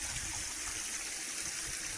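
Water trickles and flows steadily from a hose connection in the Tayrona jungle, a continuous close rushing wash with no pauses and no voices.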